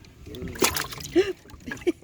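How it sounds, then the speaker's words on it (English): A large fish splashing in water while being caught during a fishing trip, giving a few sloshing bursts, with people talking and exclaiming over it. "Splashing."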